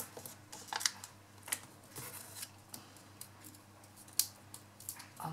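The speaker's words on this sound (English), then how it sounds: "I'm going to use my scissors to cut this one" Scissors snipping through card stock during papercraft making, a few quiet, sharp cuts spaced irregularly over faint background hiss, close and soft.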